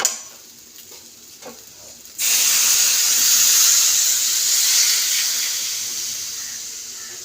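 Water poured into a pan of frying cabbage and soybean curry bursts into a loud, sustained hiss and sizzle after a few quiet seconds, slowly easing off.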